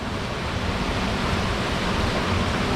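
A small trickling waterfall on a volcano trek, a steady broadband wash of falling water with no breaks, fairly close and even in loudness throughout, no voices.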